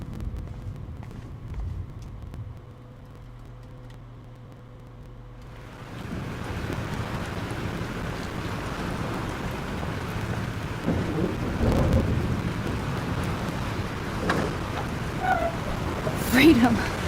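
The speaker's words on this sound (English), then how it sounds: "This storm is real." A thunderstorm with heavy rain in the video game Life Is Strange Remastered: a quieter low rumbling gives way to a loud, steady downpour with rolling thunder swells and a sharp crack near the end, no talk.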